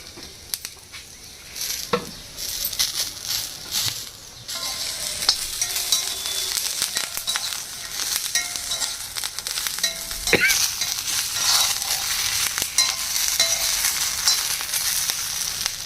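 Dosas frying in an iron kadai outdoors in a cool breeze give a continuous bright sizzle with popping crackles and spattering, broken by a few sharp clinks and scrapes, close and fairly loud with no talk.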